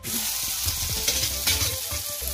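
Green peas sizzle and crackle in a hot pan with salt, with a steady frying hiss and light stirring bumps, close and moderately loud.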